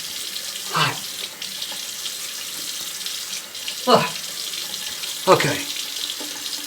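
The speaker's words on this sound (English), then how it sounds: "I'm going to attempt to wet the face with this really hot water." Very hot water runs from a tap into a basin for shaving, a steady rushing hiss with a few louder splashes as hands move under the stream, and a brief spoken word.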